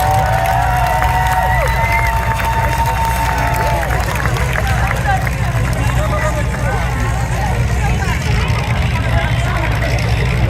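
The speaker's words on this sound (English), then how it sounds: "Give him a round of applause." A crowd in the stands at a community fair demolition derby cheers and applauds steadily throughout, with an announcer's amplified voice heard over the dense, continuous roar.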